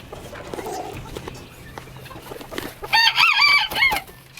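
Chickens cluck and scratch about on a farm, then a rooster crows loudly and close near the end, with scattered small knocks and bird sounds around.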